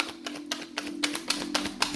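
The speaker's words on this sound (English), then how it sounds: "I'm going to do 2 more shuffles for the twin flames" Tarot cards are shuffled in quick riffling bursts, a series of crisp rapid taps repeating several times, close and quiet, with no talking.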